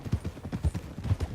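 Horse hooves clip-clop in a steady walking rhythm in Red Dead Redemption 2, close and moderately loud, with no other sounds.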